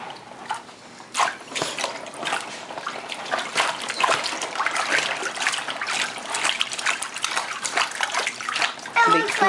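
Water splashing and trickling in a tub, with children's voices chattering over the steady wash of water.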